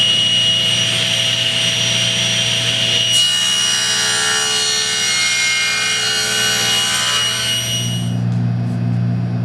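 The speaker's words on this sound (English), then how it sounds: "the first cut's going to be here on the table saw" A table saw cuts a notch into a walnut table leg for a live edge conference table, a steady loud whine of the blade with a bright rasping bite into the wood that changes partway through and ends as the blade spins down.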